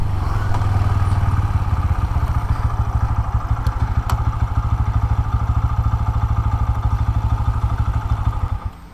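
A Bajaj Pulsar N125 motorcycle engine runs close and loud with a fast, steady throbbing pulse held for several seconds, then settles and drops off at the end as the throttle is released.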